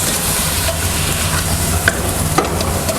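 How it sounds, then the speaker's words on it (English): Ground beef browns in a pan for a one-pot rigatoni, a loud continuous sizzle and frying hiss with a couple of faint scrapes of stirring, no voices. "We're still just browning the beef in here"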